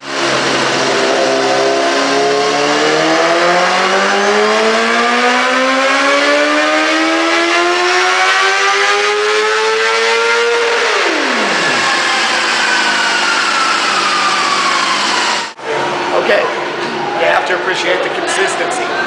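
A motorcycle engine on a dynamometer revs steadily upward through a long, loud pull, rising in pitch for about ten seconds before dropping sharply back down; a brief cut follows, then the engine settles to a rougher idle-like sound.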